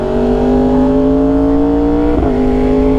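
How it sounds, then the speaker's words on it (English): Yamaha R1 motorcycle exhaust while riding on a fun stretch of back road, a steady, loud engine drone holding a constant pitch with a brief shift near the end, continuous throughout. "I can hear my exhaust way more clearly"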